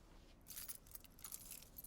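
Car keys jangling inside a pocket, a soft, scattered metallic rattle in short repeated bursts, close and fairly quiet.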